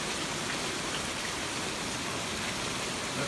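Steady rain falls across an open cattle pasture beside a hayfield, a dense, even hiss of drops lasting throughout with no talking.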